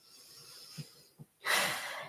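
Two soft puffs of breath, then a long, airy exhale rushes out close to the ear, followed by quiet lingering breath noise.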